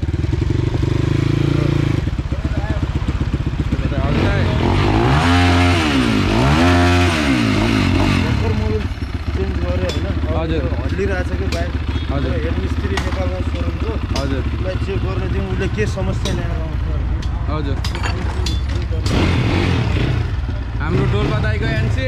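Motorcycles being readied for a dirt ride from Nepalgunj toward Phoksundo in Dolpo, Nepal, idle and rev loudly nearby in steady, rough bursts, with a sharp rev swell early on while people talk.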